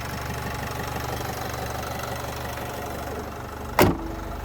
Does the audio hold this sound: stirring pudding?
no